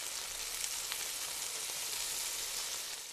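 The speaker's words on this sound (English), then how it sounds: "we're going to heat the butter up, mm-hmm. and we're going to sauté the apples." Apples sautéing in hot butter give a steady, close, bright sizzle and crackle that runs without a break, with no talking over it.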